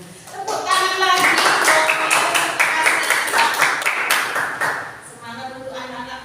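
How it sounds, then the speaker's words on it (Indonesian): Schoolchildren in a classroom clapping together in a sustained burst of applause lasting several seconds, with a teacher's voice heard before and after. "Tepuk tangan lagi"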